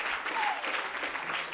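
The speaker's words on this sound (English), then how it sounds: "Let's clap with the energy and psych." An audience claps at a public speaking event, a moderate, even patter of hands continuing for the whole moment with no voices over it.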